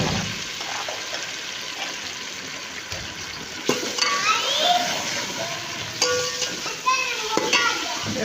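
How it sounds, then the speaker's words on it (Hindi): Ginger garlic paste goes into a pan of browned onions and green chillies, giving a steady frying sizzle with stirring scrapes, while children's voices carry in the background. "अब अदरक लहसुन का पेस्ट डालते हैं इसके अंदर।"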